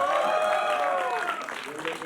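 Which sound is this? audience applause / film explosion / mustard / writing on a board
audience applause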